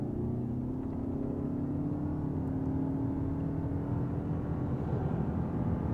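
A 2025 Toyota Camry hybrid with all-wheel drive pulls away hard in sport mode, its engine drone steady and loud with a rising tone throughout, accompanied by road and cabin rumble.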